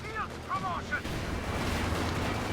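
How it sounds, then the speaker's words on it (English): Tulip rockets slamming into a Panther tank in Company of Heroes 2, heard as a short rumbling explosion that swells into a sustained low roar after a few faint wavering tones. "Panther, meantime, though, was hit by 2 Tulip rockets"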